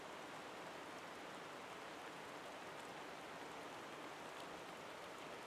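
Rain falls in the Spice & Wolf VR video game, a soft, even hiss of steady rainfall that fills the whole scene with no voices over it.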